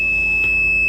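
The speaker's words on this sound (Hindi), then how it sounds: "तो ये बीप आएगी तो इसका मतलब है सही नहीं है ये रिले" A steady, unbroken electronic beep sounds from a tester checking a 12V 15A automotive relay, holding one high pitch loudly for the full second.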